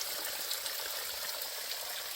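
Ice-cold mountain stream water flows and trickles steadily along a hiking trail, a continuous broadband wash of near running water with no voices.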